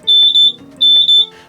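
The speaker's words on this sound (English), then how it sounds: "It's got that shrilly kind of beep to it" RV propane leak alarm sounding a shrill, piercing electronic beep, two pairs of loud pulses in quick succession, close and alone with no talk.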